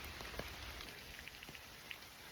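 Steady rain patters on a surface during a long hike in wet weather, a dense close hiss with scattered louder drops landing nearby.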